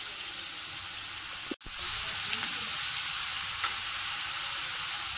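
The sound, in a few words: vegetables sautéing in a pan for pumpkin curry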